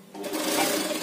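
A sewing machine runs a straight stitch along a saree fall, with a steady, close, continuous whir that starts almost at once and carries through without any voices.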